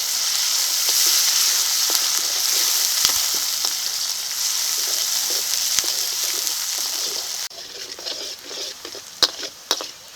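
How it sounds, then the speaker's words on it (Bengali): Chopped onion sizzles and crackles steadily in hot oil with whole cumin seeds and a bay leaf, a loud continuous fry with occasional stirring knocks and sharp pops toward the end. "পেঁয়াজ কুচি পেঁয়াজটাকে এখন ভালো করে ভেজে নেব"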